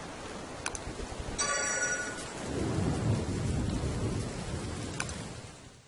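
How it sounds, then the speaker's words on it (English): Steady rain hisses throughout in the video game Don't Starve while a deep rumble of thunder rolls in and lingers, with a few faint high clicks. "And it's raining. That'll put out our torch."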